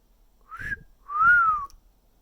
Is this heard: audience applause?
no